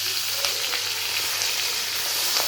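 Fish pieces frying in hot oil in a pan, giving a steady, dense crackling sizzle with occasional sharper pops and light stirring clicks, close and continuous without talk.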